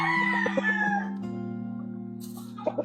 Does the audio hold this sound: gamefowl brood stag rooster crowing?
yes